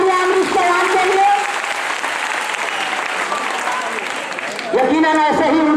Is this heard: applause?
yes